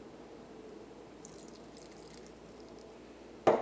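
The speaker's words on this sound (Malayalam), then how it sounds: "ഇതിലേക്ക് നമുക്ക് കുറച്ച് വെള്ളം ചേർക്കാം." Water poured into beaten eggs for a bread omelet: a quiet room, then a brief, sudden splash of pouring liquid right at the end, close and alone.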